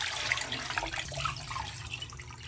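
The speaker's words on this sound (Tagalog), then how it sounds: "Ilaga muna natin ang chicken breast. Lagyan ng tubig" Water is poured into a cooking pot over raw chicken breast, a steady splashing, gurgling stream lasting a few seconds, close and moderately quiet, with no talking.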